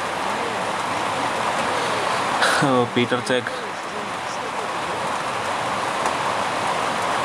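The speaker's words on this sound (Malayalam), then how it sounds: "ബാക്ക്ഗ്രൗണ്ടിൽ മഴയുടെ സൗണ്ട് നല്ല രീതിക്ക് കേൾക്കും." Heavy rain pours in a steady, even hiss that fills the whole stretch, with a brief burst of speech over it near the middle.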